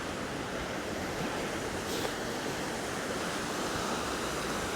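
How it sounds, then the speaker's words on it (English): A river running high in Kendal rushes past as a steady, broadband roar of flowing water. It stays constant throughout with no voices. "River's running quite high."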